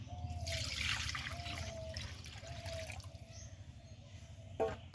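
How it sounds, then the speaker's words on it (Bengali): A spoon stirs four packets of powdered milk into water, producing a watery swirl with a rhythmic, faint scraping ring on each pass and one sharp knock near the end. "দিয়ে আমি একটা চামচের সাহায্যে খুব সুন্দর করে প্রথমে আগে ঘুলে নিব"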